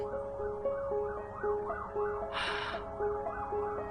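An ambulance siren wails in a steady two-tone rising and falling cycle, moderately close and continuous, with a brief burst of breathy noise partway through.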